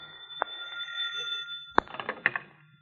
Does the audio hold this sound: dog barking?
no